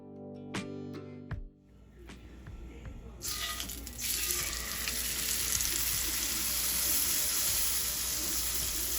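A salmon fillet laid skin side down in olive oil in a pan: after a few clinks, a loud, steady sizzle of frying bursts in and holds, close and continuous.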